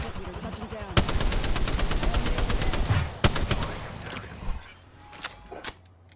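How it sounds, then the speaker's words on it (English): Rapid bursts of automatic gunfire in a shooter video game, a dense rattling stream of shots for several seconds, then scattered single shots and fading clatter; a voice is faintly present underneath. "Getting shot at."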